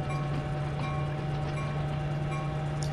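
An underpowered locomotive hauls a long string of cars in Train Sim World 3 on the Peninsula Corridor, with a steady droning engine hum and rail rumble, loud and continuous with no talking.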